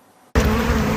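Honey bees on an Alberta honey farm make a loud, steady buzzing hum that starts suddenly and holds close and continuous, with no voices.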